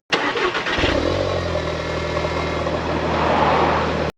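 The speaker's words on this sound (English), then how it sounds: "Cold start 2016 Audi TT." A 2016 Audi TT fires up from cold with a quick cranking burst, flaring briefly before settling into a steady, fairly loud idle close by, then cutting off abruptly at the end.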